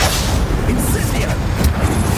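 Incendio fire spell cast in Hogwarts Legacy, a dense, roaring blast of fiery impact noise that fills the whole moment at steady loudness, with no clear gaps.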